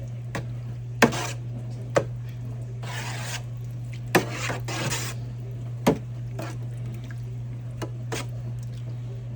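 Tomato paste from three cans being stirred into a pot of spaghetti sauce, with scattered scrapes and knocks of the spoon against the pot over a steady low hum, moderately close.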